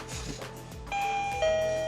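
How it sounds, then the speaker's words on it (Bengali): The doorbell of an SDL smart door lock chimes twice, two sustained bright tones sounding one after the other over a faint background hum. "কেউ যদি এখানে কলিং বেল দেয়"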